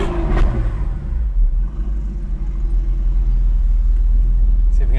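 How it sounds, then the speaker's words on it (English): A Porsche sports car with its exhaust set to full loudness rumbles deeply nearby and rises into a throaty rev, with a brief voice heard over the engine. "my car's noisy, isn't it?"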